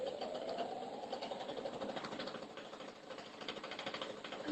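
Sewing machine stitching fabric for a balcony organizer, a steady continuous mechanical whir with fine rapid rhythm running throughout at moderate, even loudness.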